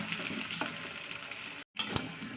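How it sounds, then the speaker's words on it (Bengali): Potato pieces frying in hot oil for a Bengali cauliflower-and-potato chicken dish, unsalted and unspiced so far: a continuous close sizzle with occasional stirring scrapes and a brief drop to silence near the end. "জাস্ট আলুটা ভাজা করছি"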